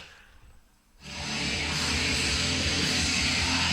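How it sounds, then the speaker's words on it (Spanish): A 2014 Bathory reissue picture disc spins on a turntable whose needle is clogged with residue, giving loud, dense, gritty, distorted playback that bursts in after about a second of near quiet and continues steadily. "suena así porque la aguja ya acumuló"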